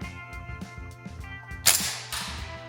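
A battery-powered G&G MGCR 556 airsoft rifle fires one sharp, close snap that rings briefly over a faint background hum.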